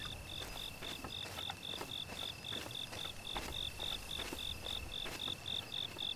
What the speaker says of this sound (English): You're a cricket, but where?